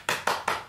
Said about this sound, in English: Clap your hands right now.